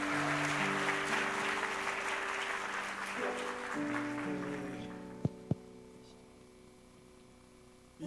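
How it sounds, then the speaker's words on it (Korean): A church congregation at a Korean youth worship service claps to welcome an elder, a broad burst of applause that fades over several seconds beneath a sustained organ-like keyboard chord, with a couple of sharp knocks near the end. "우리 큰 박수로 환영하겠습니다"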